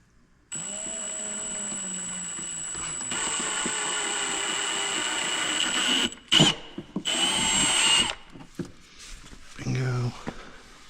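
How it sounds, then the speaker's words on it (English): A power drill whirs at a steady high pitch for several seconds while drilling through a Bobcat L28 fender, then cuts in and out in short bursts, with a person talking briefly. "With a drill bit, it goes through pretty quick."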